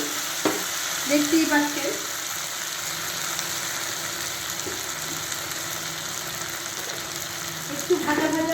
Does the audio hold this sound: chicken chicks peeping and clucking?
no